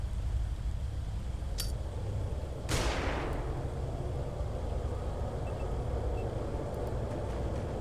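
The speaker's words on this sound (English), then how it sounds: "Flashbang." Flashbang grenade going off in the video game Xenonauts 2, a single sharp, loud burst with a fading noisy tail, preceded by a brief click and set over a steady low background rumble.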